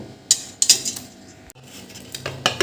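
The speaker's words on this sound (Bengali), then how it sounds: "এই গ্রেটারে পেঁপেগুলো গ্রেট করে নেব" Raw papaya is grated by hand on a grater, giving close scraping strokes with sharp metallic clinks, irregular and fairly quiet, with no speech over it.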